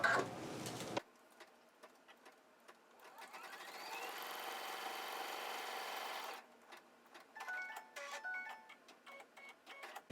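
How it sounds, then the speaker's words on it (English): A sewing machine stitches a fabric strip onto a quilt block in a steady, close whirring run lasting several seconds, starting after a short pause and then ending in scattered small clicks and taps. "I'm ready to stitch it in place"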